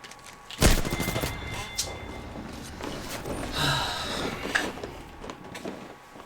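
Gunfire from a battle royale video game, with a loud burst of shots near the start followed by further scattered shots and mixed game noise over a steady background.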